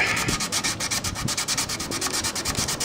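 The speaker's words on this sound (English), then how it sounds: "We start in a spot, take our time, just keep rubbing till we get all the way through it." A bamboo violin is sanded by hand in steady, rapid back-and-forth strokes, a close, continuous rasping rub with an even rhythm and no talking.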